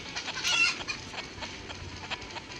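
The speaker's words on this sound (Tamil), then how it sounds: "கோழி cook cook cook cook cook cook அப்புறம் மாட்டிச்சு" Chickens cluck in the Stick Man Tournament video game, with short, moderately loud bursts scattered over a steady background and one stronger cluck early on.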